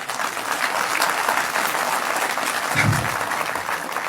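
A crowd at a speaking event applauds steadily and evenly for the whole stretch, dense and unbroken, with no voice over it.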